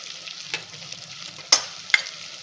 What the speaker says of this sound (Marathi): टोमॅटोला छान आपण भाजून घ्यायचं आहे.